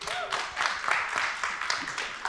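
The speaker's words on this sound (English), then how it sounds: "Please, round of applause for Mr." A conference audience at a startup pitching competition applauds, a brief burst of scattered clapping that swells and fades slightly, with no one speaking over it.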